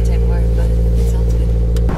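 A 2022 Subaru BRZ engine at cold start, idling with a steady, loud, close drone that shifts abruptly near the end.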